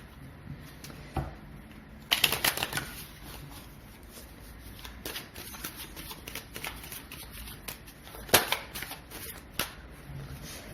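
Tarot cards being shuffled by hand in irregular bursts, close and crisp, with quiet gaps between the riffles.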